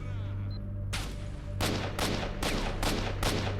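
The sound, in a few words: gunfire in the video game STALKER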